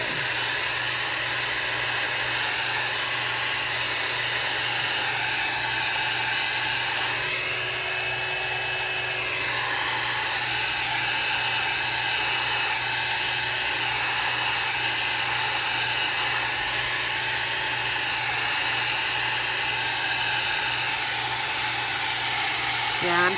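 A hair dryer running on high heat is passed over Grafix opaque white craft plastic used with alcohol inks, giving a steady, loud whirring blow with a high whine that barely changes throughout.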